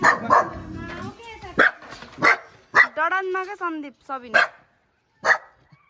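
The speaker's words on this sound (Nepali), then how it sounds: "अब यहाँको कुकुर हेर यति भुक्छ" A local dog barks loudly and repeatedly close by, in several separate bursts mixed with yelps, while someone talks between and over the barks.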